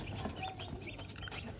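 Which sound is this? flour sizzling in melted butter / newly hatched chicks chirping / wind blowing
newly hatched chicks chirping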